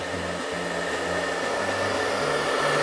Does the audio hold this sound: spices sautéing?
no